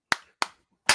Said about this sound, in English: 2 claps and a Ric Flair